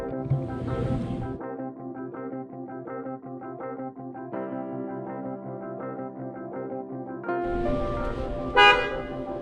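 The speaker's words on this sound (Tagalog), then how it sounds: "ito yung premium horn. Yung pinalit nila. Pinalit nila dun sa stock na horn." A loud aftermarket premium horn on a 2022 Toyota Innova E blares in long sustained honks, with a brief pause between blasts and a final higher burst near the end.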